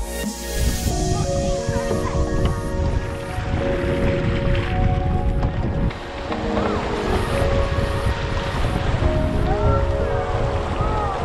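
Strong wind buffets the microphone while paddling a canoe on a winter lake near Fernie, British Columbia, a loud continuous roar with water sloshing and a voice talking underneath.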